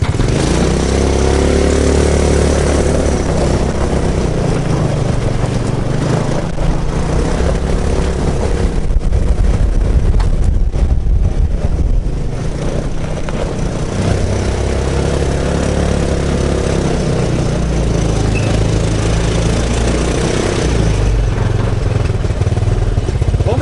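A 250cc Hammerhead go-kart engine in need of repair runs steadily and loudly throughout a short driveway ride, with a continuous low engine drone close to the listener.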